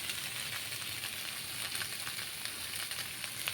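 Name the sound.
stir-frying rice with onion, chilli and egg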